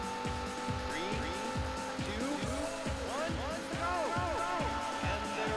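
Race car skidding in Daytona USA on the Sega Saturn, a loud revving engine with squealing tires and repeated rhythmic pulses, under game music and a voice talking.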